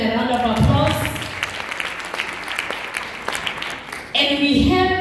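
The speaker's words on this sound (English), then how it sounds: "Can we also give them a round of applause?" An audience at an event in Botswana breaks into sustained, loud clapping that fills the room, with a voice heard briefly at the start and again as the applause continues near the end.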